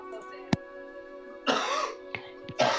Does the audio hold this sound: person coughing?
yes